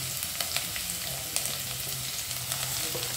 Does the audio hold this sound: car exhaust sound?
no